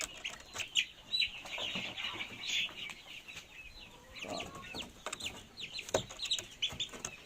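Parent-stock chickens cluck and squawk in bursts while struggling against handling, with wings flapping now and then, fairly close by.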